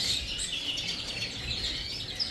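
Siskins and mealy redpolls in an aviary, a steady busy chatter of high, thin chirps and twitters from several birds at once, close and continuous.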